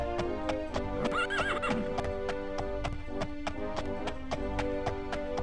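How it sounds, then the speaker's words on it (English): Horseback riding in the video game Daggerfall: steady, close clip-clop hooves with a horse's neigh or whinny early on, over a constant musical backdrop, with no talking. "let's actually get a horse going."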